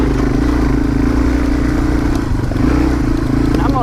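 A Royal Enfield Himalayan or Yamaha TW200 motorcycle ridden on the Shoe Creek Trail, its engine a loud, continuous close-up drone with faint clatter and no pauses.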